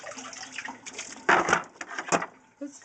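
Water drains out of an aquarium fish tank in close, uneven gurgling and splashing bursts, loudest in the middle, with quieter trickles between.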